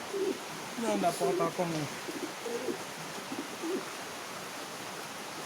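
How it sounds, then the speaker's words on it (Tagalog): Soft pigeon cooing from a large, off-color pigeon comes in a few low, throaty bursts near the start and again later, while a person talks over a steady background hiss. "Yan, napakalaki kalapati ah."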